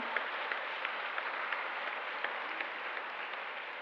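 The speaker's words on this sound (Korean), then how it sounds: "저희 전 회장님들께 박수 한번 드렸으면 좋겠습니다" Faint, steady applause from a church congregation at an interdenominational lay women's evening gathering, a soft continuous patter of many hands heard from a distance.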